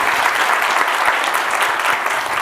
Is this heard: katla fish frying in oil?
no